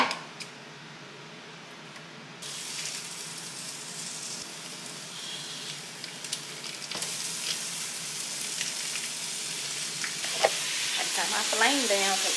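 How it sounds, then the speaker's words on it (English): Jimmy Dean sage sausage browning in a hot preheated soup pot on the stove, a steady close sizzle and fry with occasional stirring scrapes and light clinks of a utensil against the pot, growing busier toward the end. "I'm just trying to brown my sausage up"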